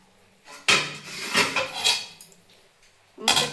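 A lid clatters and scrapes onto a pot of simmering Bengali bata fish curry in oil and chili, with several sharp metallic knocks and rattles, then a final clank.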